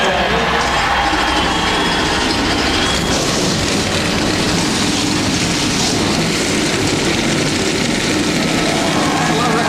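NASCAR stock car engines roaring at Kansas Speedway during the STP 400, a loud, dense, continuous mechanical roar blended with crowd and track-side noise throughout.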